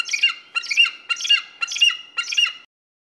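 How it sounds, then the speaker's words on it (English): A hawk gives five hoarse, screeching calls in a regular rhythm, close and loud, with silence after the last one. "Most adult hawks make hoarse, screeching sounds that we associate with large birds of prey."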